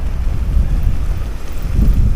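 Sea waves surging below the cliff tops at South Shields on a winter day, a heavy low roar of churning surf with strong wind buffeting the microphone, loud and continuous.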